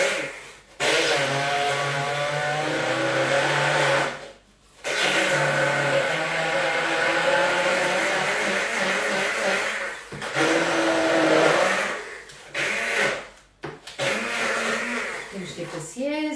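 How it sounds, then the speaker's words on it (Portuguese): A kitchen blender grinds ingredients into a green paste for a macrobiotic diet dish, its loud motor whirring in several long bursts separated by brief pauses, with someone speaking between runs. "Vou só aqui triturar até fazer uma pasta."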